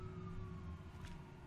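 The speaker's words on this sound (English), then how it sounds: "Do I hear sirens? Or is that in real life?" A faint, distant siren wails steadily in a slowly falling tone, with a low rumbling hum underneath.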